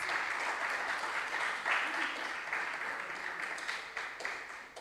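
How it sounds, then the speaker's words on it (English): Audience applause for quiz contestants at a regional junior science and maths quiz qualifier, steady dense clapping throughout with some voices faintly mixed in. "Please give them a round of applause."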